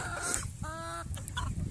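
Large-fowl chickens cluck nearby on a ranch, one giving a drawn-out tonal call among shorter clucks over a low background hum of the farm.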